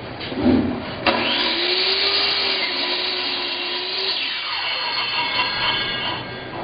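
Power saw fitted with Hitachi blades cutting parts for a hydro reservoir build, a loud sustained whine that starts abruptly and holds steady for several seconds with a faint rising tone, no talking.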